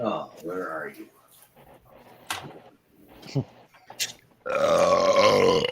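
A person lets out a long, loud, rough burp at close range near the end of the clip, following scattered talking, shuffling noises and a few clicks.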